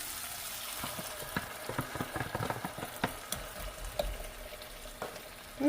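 Partly frozen beans go into a hot pan with salt and sauté with a soft, steady sizzle, broken by scraping and clattering as a utensil stirs them, close and moderately quiet.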